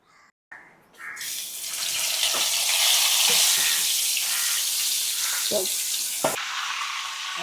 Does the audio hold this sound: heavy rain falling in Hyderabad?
no